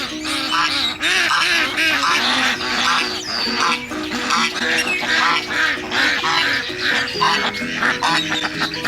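Ducks quacking and squawking in a busy, continuous chorus, loud and close throughout, layered over steady tonal background sound.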